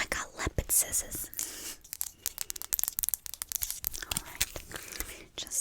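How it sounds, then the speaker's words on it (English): Close, crisp snipping and crunching cuts in quick irregular bursts, with soft murmured voices in between. "I'm gonna give you a little trim."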